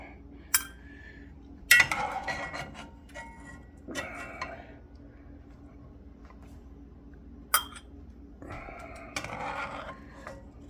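Candied jalapeño peppers are scooped and packed into a glass jar as cowboy candy, with sparse clinks and taps of a utensil on glass over a quiet, humming background.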